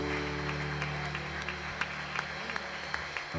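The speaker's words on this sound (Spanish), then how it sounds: "¿Cuántos le dan el aplauso más lindo al Señor bendito?" Applause from a church congregation during a Spanish-language Communion service: steady, even clapping with sharp transients, running under a low background of music or voices.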